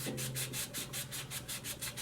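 Steady back-and-forth sanding strokes on a spalted walnut vase, a rhythmic abrasive rubbing repeating about twice per second, close and fairly loud with no talking.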